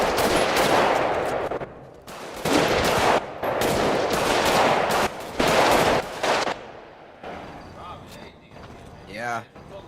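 GTA V gunfire: loud, close automatic bursts rattle in rapid strings for about six seconds, broken by short gaps, then fade to quieter scattered sounds and a brief voice.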